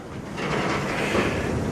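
A CN night train rolls through Sarnia, Ontario, a steady low rumble and rush of railcars on the track, swelling slightly midway and holding at moderate distance with no voices.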